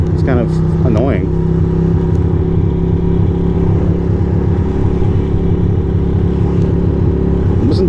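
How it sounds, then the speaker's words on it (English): A Ducati motorcycle engine running rough at night on city streets in Queens, a steady loud low drone close up with faint wind and traffic around it. "Listen to how shitty my bike runs."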